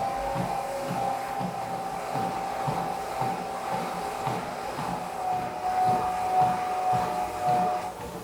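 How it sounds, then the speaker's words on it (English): The incline motor of a NordicTrack T Series 10 treadmill runs with a continuous mechanical whine and a steady rhythmic hum from the belt beneath it, moderately loud and with no talk. "So while the treadmill is reasonably quiet, the incline motor is a little bit louder."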